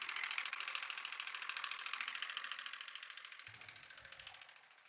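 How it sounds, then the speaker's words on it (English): A 2012 Mini Cooper S engine idles with a rapid, even tapping noise from the engine, close and steady throughout, fading slightly toward the end. "it has a very distinctive tap on the engine"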